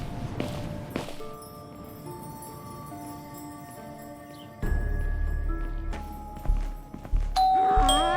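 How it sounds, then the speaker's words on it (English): A doorbell chimes over and over, ding-dong tones ringing out in quick succession and overlapping, with a few thumps and footsteps mixed in. "Even the doorbell is mocking me."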